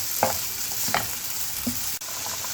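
Red and green peppers sautéing in a pan for a creamy chicken dish, with a steady soft sizzle and a few brief stirring scrapes near the mic, no voices.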